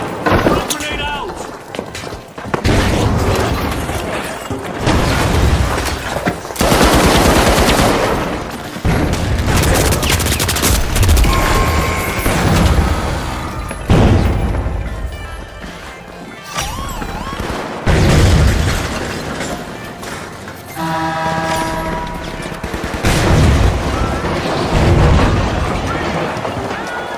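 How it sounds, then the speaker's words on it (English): Grenade explosions and bursts of gunfire in the shooter game The Finals come as repeated loud booms and rattling volleys with short gaps between them, with voices heard among the blasts. "Grenade out."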